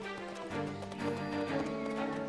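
Horse hooves clip-clop in a rural Carpathian setting, a steady run of soft thuds for a couple of seconds under a busy background of other noise.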